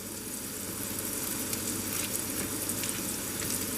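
Butter sizzles steadily in a hot pan alongside softening onions for a lamb mince pie, a dense, even crackle that stays level throughout with no talking.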